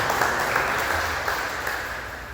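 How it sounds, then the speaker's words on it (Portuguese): Congregation applause during a church sermon, a brief, steady burst of clapping at moderate loudness with no talking over it. "Aplauda o Senhor pela palavra dele."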